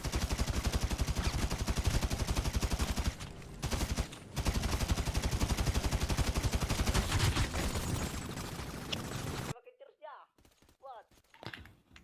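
Rapid bursts of automatic gunfire in a roleplay video game crackle loudly and almost continuously for about nine seconds, with brief gaps, before giving way to quieter game sounds and scattered voices.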